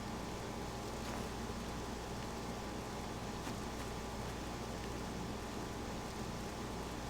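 Steady rain hisses evenly throughout in the video game Octopath Traveler 2, a dense wash of falling drops with no voices.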